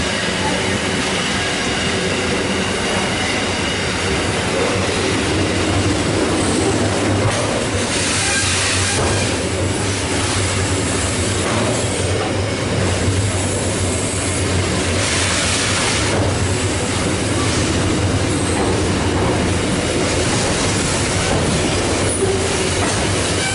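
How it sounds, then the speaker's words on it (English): Sydney train pulling away from the platform at Dulwich Hill station, a loud, continuous rumble of wheels with clattering over the rails and occasional squeals, heard close and sustained throughout. "B32 is now departing platform number 2"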